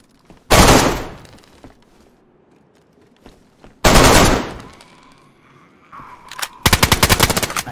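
Gunfire in the DayZ video game: two loud single shots a few seconds apart, then a rapid automatic burst at the end, with quiet background noise between.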